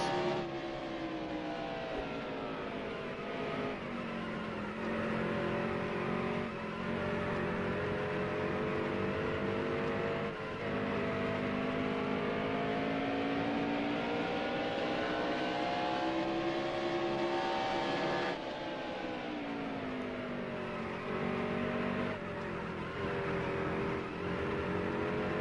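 A race truck engine in a racing video game drones continuously at high revs, its pitch rising and falling with gear changes and throttle through turns, steady and loud with no talk.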